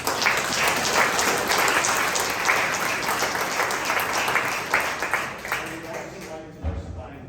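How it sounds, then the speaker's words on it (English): Town hall audience applause at a local area plan meeting, a sustained round of many hands clapping that tapers off, with faint talk emerging as it fades. "So I'd just like another round of applause"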